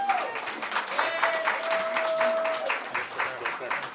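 A crowd at a Smart Money kick-off event claps for the host, a thinning patter of hands under what sounds like a voice or tone holding a steady pitch over it.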